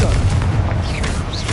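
Rapid-fire blasting spell explosions in the Hogwarts Legacy video game, dense booming bursts in a continuous loud barrage with whooshing and sizzling effects layered over a dark castle setting.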